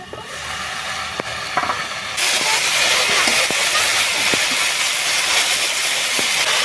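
Ginger, mustard seeds and cumin hit hot oil in a pan with a sudden loud, steady sizzle that jumps up partway through and holds as a bright hiss, with a few small clicks from the spoon.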